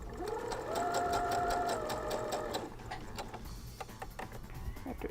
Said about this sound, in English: Let's just start sewing.